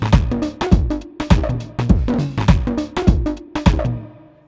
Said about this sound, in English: We have this beat, 104 Dirty Panther,